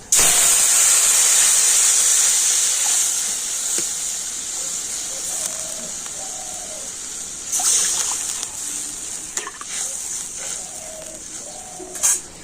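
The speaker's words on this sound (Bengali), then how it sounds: "পাঁচ ফোড়ন লঙ্কা একটু লাল করে ভেজে নেব দিয়ে দেবো অল্প একটু হলুদ গুঁড়ো আর দিয়ে দিচ্ছি জল" Water poured into hot oil with panch phoron and chilli erupts in a loud, steady steam hiss that slowly fades and flares again, with faint chirps in the background.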